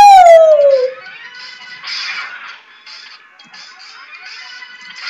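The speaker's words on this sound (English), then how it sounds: "listen to the noise this dog makes when the battle begins, because it sounds like a Pokemon roar" A robot dog boss in the Mega Man X video game lets out a short, high, falling roar at the start, followed by quieter bursts of game sound effects.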